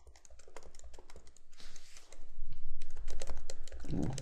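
Computer keys and a mouse click busily and close by as someone plays the Dwarf Fortress strategy game. The clicks come in irregular, rapid bursts that run on without pause, with low background hum and no clear speech.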